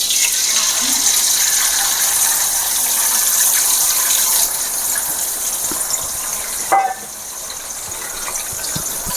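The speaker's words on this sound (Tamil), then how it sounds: "இதில் கொஞ்சம் எண்ணெய் ஊற்றி இந்த முட்டையை பொறிச்சு எடுக்க போகிறோம்" An egg fries in oil in a pan, giving a loud, continuous sizzling hiss that steps down in level partway through and then carries on steadily.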